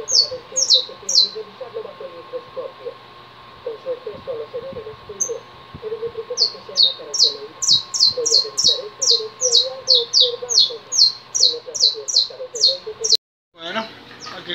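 Saffron finches (Sicalis flaveola) kept as pet birds give repeated sharp, high chirping calls in quick bursts, fairly close and loud, over a steady background hum.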